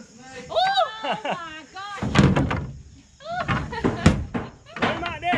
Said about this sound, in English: Don't knock that door down here